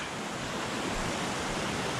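Steady, dense roar of a jungle waterfall, a constant broadband rush of falling water close by with no voices, heard alone.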